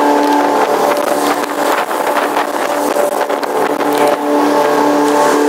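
The twin engines of a 1997 Sea Ray 280 Open Bow Rider SLX Select run at full speed on the water, a loud, steady droning roar with constant wind and hull noise and no voices.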